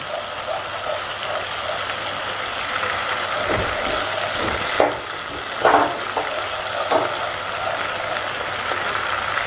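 Ginger green chili paste sautéing in a pan while cooking cabbage Manchurian, a steady soft sizzle and frying hiss with a few louder stirring scrapes and clinks partway through, close and alone without talk.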